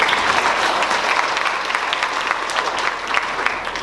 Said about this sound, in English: Now, how about another round of applause for her,